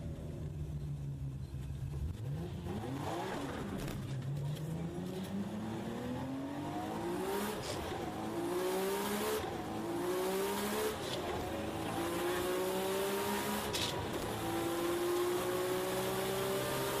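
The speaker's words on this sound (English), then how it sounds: "Just watch her light up all four sticky tires." The engine of a Nissan Skyline on four sticky tires revs hard through repeated rising pulls that echo in a tunnel, with tire squeal and a loud, sustained roar as the car accelerates, and nobody speaks.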